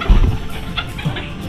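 Chickens cluck softly and intermittently at close range while eating vegetable peels, with low scratching and pecking sounds underneath.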